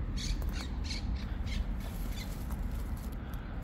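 Harsh bird squawks repeat several times over a steady noisy outdoor background, moderately near, as birds feed on a pomegranate tree.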